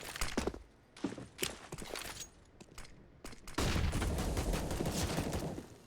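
Rapid bursts of gunfire from a professional Counter-Strike match, sharp shots in clusters followed by a denser continuous barrage, with no commentary heard over it.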